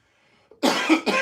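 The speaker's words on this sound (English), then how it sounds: "I'm coughing and shit." A single loud, close cough bursts out after a brief quiet moment, followed by a second shorter cough.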